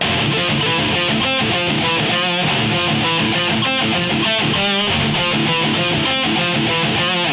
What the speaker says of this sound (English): a pedal point riff might sound something like this